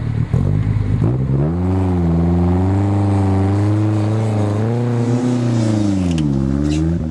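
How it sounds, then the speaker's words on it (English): A 4x4 engine at a national off-road challenge obstacle course in Rustenburg revs loudly and close, its pitch rising and falling repeatedly as the vehicle manoeuvres, with faint clattering over the continuous drone. "Using his front wheels to move the vehicle into a better line of approach"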